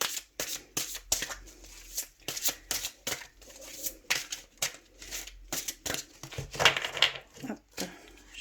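Tarot cards being shuffled by hand, a run of quick papery riffles and slaps repeating through the stretch, close and fairly soft, with occasional brief speech between.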